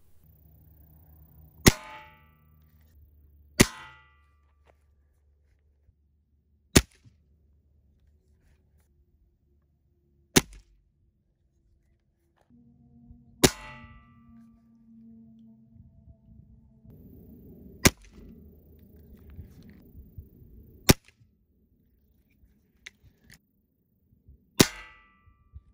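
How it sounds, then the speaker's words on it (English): Gamo Bone Collector Swarm .22 Gen 2 air rifle firing pellets over a chronograph: several sharp, isolated cracks spaced a few seconds apart, with quiet handling noise and faint rustling between shots. "We're gonna shoot two pellets over the chronograph."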